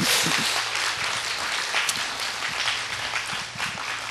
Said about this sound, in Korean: 박수로 큰 영광 한번 돌려주면 좋겠습니다